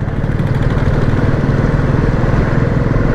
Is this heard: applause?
no